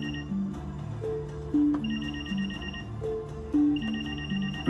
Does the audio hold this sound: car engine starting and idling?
no